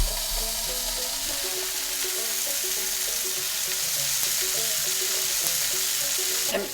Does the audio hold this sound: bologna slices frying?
yes